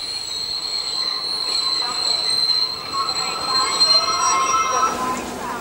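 A DB class 003 steam express locomotive pulls its train into Aulendorf junction in the early 1970s, with loud rolling wheels and sustained high-pitched wheel squeal on the rails.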